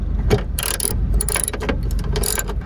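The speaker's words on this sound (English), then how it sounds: "need a 11mm deep socket, and this will do the trick" A ratchet fitted with an 11mm deep socket removes the tail light bolts on a 2008-2011 Ford Focus, giving bursts of quick close clicking pawl strokes separated by short pauses.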